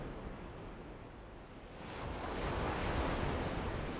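Ocean surf washes in the video game Tales of Symphonia: Dawn of the New World, a steady broad roar that swells louder halfway through, with no talk.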